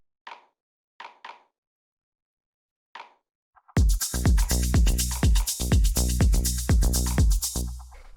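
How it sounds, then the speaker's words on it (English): A sparse progressive house percussion loop runs through a high-pass filter: a few thin, isolated clicks, then a fuller pattern of short, punchy hits in a steady, even groove, loud and close with no voices. "It's just this little percussion sound going through a bit of a high pass."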